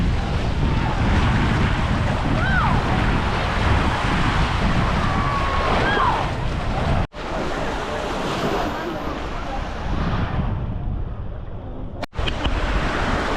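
Busy La Quinta Beach in Sardinia, with steady loud surf and wind buffeting the microphone throughout, faint background voices and a couple of sharp cuts.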